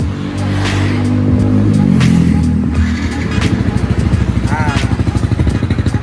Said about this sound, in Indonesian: Dan nyalainnya motornya.